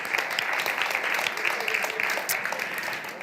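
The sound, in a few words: audience applause at conference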